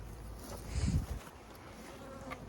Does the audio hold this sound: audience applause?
no